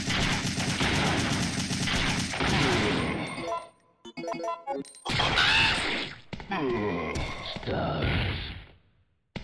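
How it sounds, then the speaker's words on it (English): A rocket launcher firing in Resident Evil 3 during a Carlos nightmare speedrun, with dense bursts of explosive blasts and crashing debris, then a few sharp, choppy shots and a fading roar. "Holy shit, rocket launcher!"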